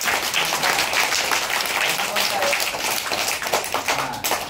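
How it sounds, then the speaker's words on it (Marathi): Loud, dense applause from a group at a village primary school pre-school readiness event, steady clapping filling the whole stretch with faint voices mixed in. "टाळ्या वाजून द्या जोरात"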